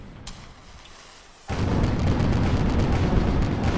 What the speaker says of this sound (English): Watch the shots going out from the Grizzlepop Shindig.